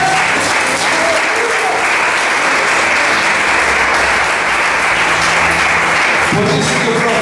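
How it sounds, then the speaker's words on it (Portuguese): A church congregation breaks into loud, sustained applause during an evening service, a dense steady wash of clapping that continues throughout with a brief shift near the end. "Quantos podem nesta noite aplaudir o nome do Senhor Jesus?"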